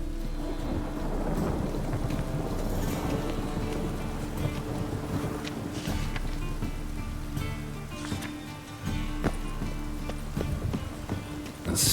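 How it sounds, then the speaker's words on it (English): A thunderstorm with heavy rain in the fantasy video game The Witcher 3: Wild Hunt, a dense steady downpour with low rumbling thunder swelling throughout, loud and enveloping. "A storm, damn it."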